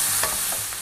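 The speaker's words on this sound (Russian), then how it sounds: "И слегка так прижариваем бекончик" Bacon sizzles in olive oil in a frying pan, a loud continuous hiss of spitting fat heard close up in a short burst without speech.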